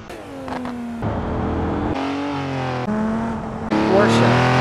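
A Porsche drives past a moving truck, its engine revving in rising, stepped bursts with abrupt cuts between segments, loud and close throughout.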